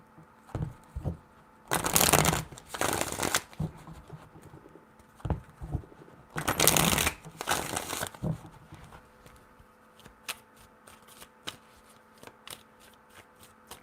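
Tarot cards being shuffled in two bursts of riffling and one longer burst, each a quick papery rush, with soft taps and handling clicks between, close and clear with no voices.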